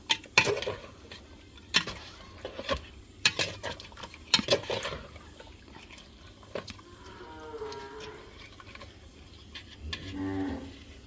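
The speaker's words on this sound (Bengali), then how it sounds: "এখন ভালোভাবে নাড়াচাড়া দিয়ে দিব।" Mutton curry stirred in a pot at home, with sharp spoon clanks and scrapes against the metal in the first few seconds, followed by a cow mooing nearby in the background.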